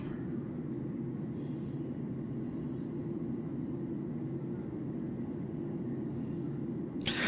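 Steady engine drone and rushing air fill a Caribbean Airlines airplane cabin shortly after takeoff, a constant broadband roar with no speech and a brief brighter rustle near the end.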